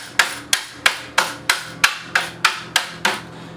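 A paramotor propeller is assembled by tapping bolts through its hub holes, giving ten sharp, evenly spaced knocks about a third of a second apart, close and loud, each ringing briefly before the next.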